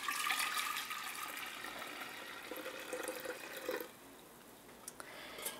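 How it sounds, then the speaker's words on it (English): Cooled tea pours into a fermenting jar as a steady liquid rush, fairly close, which tapers off toward the end, followed by a few faint clinks and drips. "And you'll pour your cooled tea into the fermenting jar."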